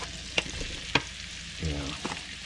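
Mushrooms going into a stir fry in an electric wok, a soft continuous sizzle broken by a couple of sharp utensil clinks and a brief scraping stir near the end.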